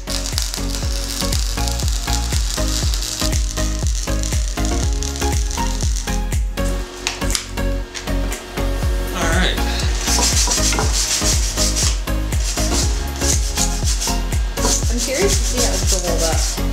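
Flux core welding on a cast iron exhaust manifold from a 1986 F25: a continuous loud crackling sizzle with dense irregular pops and spits, steady throughout with no voices.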